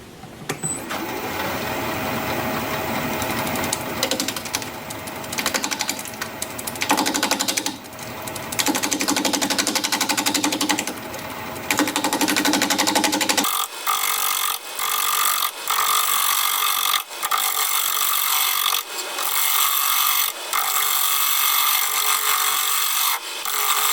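Mesquite bowl turned end grain on a lathe at about 700 RPM, cut with a 5/8 inch bowl gouge: a steady rough scraping whir, then rhythmic repeated cutting bursts as the gouge catches the hard wood, loud and close with no talking.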